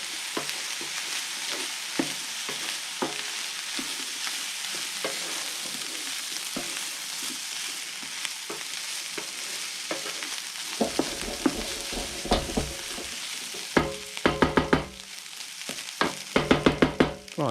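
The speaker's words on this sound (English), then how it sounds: "So give it one more stir." Nasi goreng with soy sauce sizzling steadily in a hot pan, a constant close frying hiss with scraping stir strokes that grow busier and louder toward the end.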